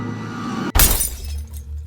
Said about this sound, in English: a sharp crash echoed from the hallway.